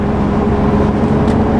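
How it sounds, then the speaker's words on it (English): A Chevrolet Colorado pickup truck with an LS3 V8 engine, floored at full throttle, gives a loud, steady, deep engine roar heard close up from inside the cab. "I can definitely keep revving it out"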